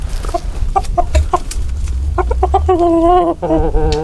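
Backyard chickens cluck close by in a quick series of short calls, followed by a longer drawn-out squawk, with a steady low rumble of background noise underneath.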